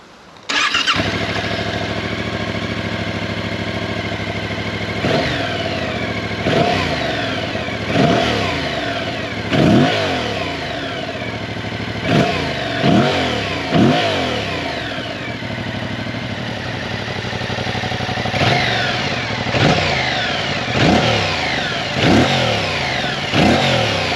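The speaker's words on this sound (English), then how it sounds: "I've also improved the exhaust note with the EU5 Plus update, so we'll hear that next." A 2025 Yamaha Tracer 7 GT motorcycle with EU5 Plus exhaust fires up and idles, then gets revved again and again in sharp bursts that rise and fall back, loud and close, with no talking.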